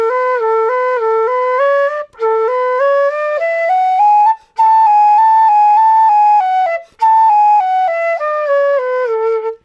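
A wind instrument plays a slurred speed exercise, with smooth connected stepwise notes in quick legato runs, a few brief breaks between phrases, loud and alone.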